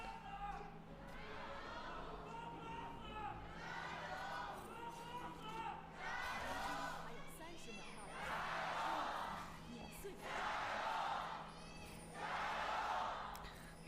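NIP fans in their Shenzhen home arena for an LPL League of Legends match, a large crowd roaring and chattering in swelling waves that build louder through the second half, heard from within the venue.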